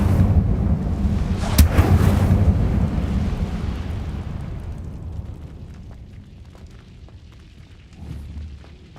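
Incendio fire spell cast in Hogwarts Legacy, a loud eruptive burst with a sharp crack, then a roaring rumble that slowly fades, followed by a brief low swell near the end.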